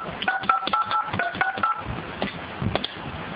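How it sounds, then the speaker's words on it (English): A run of DTMF keypad tones beeps out as a number is dialed on an IP phone connected to a PBX, short evenly spaced beeps close and clear, followed by quieter handset clicks. "So let me try to make a phone call."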